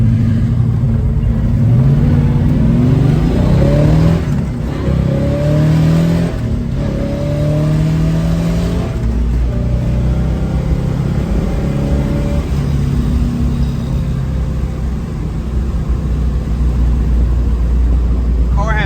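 A 1970 Chevrolet Chevelle SS 454 V8 revs and accelerates hard, its deep rumble climbing in pitch through several gear changes, loud and close.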